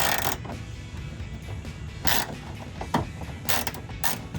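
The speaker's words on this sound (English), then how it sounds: "Then we'll put our Phillips on the ratchet and we'll tighten everything up. Hit it with a couple ratchets." A ratchet with a Phillips bit tightens screws on custom molded mud guards for a 2015-2020 Ford F-150, giving several quick clicking and creaking bursts close by over faint background noise, with no talking.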